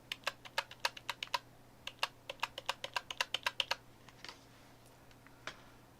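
USB keyboard on a cheap PC, a quick run of crisp key clicks in an irregular rhythm, close and clear, thinning to a few scattered presses at the end over faint electrical hum.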